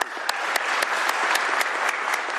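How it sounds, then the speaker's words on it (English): An audience at Governor Bob Ferguson's bill signing claps steadily, a dense, close burst of applause lasting a couple of seconds with sharp individual claps standing out. "Round of applause for everybody."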